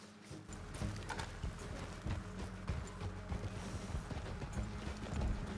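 Hooves of a horse in the video game Red Dead Redemption 2 clip-clop steadily over a continuous bed of game ambience and music, mid-distance and fairly even in level.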